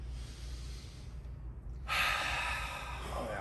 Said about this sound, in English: Take a deep breath in. And breathe out.